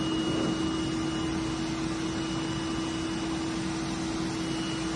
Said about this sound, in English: she's been blow dried before, so she is used to the blow dryer